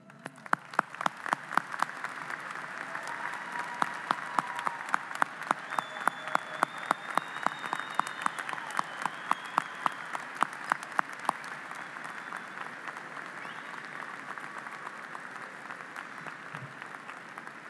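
A commencement crowd rises in a standing ovation, with dense, sustained applause and sharp individual claps throughout, steady for the full length before easing slightly near the end.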